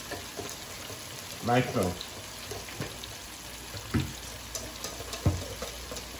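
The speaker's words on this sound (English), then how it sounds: "I'm gonna whisk this in." A whisk works sriracha into mayonnaise and sweet chili sauce in a bowl, making irregular soft scrapes and light taps close by, with a voice speaking briefly.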